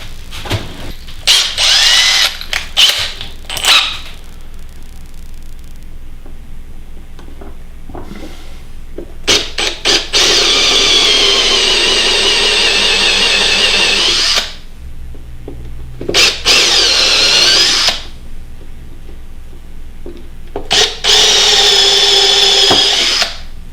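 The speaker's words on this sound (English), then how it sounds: "I'm going to countersink that just a little bit so I can fold the wire over it" A power drill countersinks a hole for copper wire in a woodturned walnut and copper candle holder, sounding as a few short whirring bursts followed by longer sustained runs, loud and close with pauses between.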